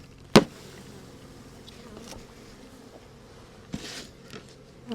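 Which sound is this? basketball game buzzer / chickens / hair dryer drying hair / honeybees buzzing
honeybees buzzing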